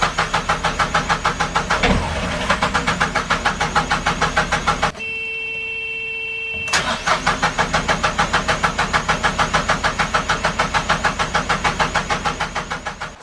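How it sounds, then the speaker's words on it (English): A narrowboat diesel engine cranks with a fast, rhythmic chugging that does not catch, stops for a moment, then cranks again just as steadily and loudly. "You will have seen that I had a problem starting the engine."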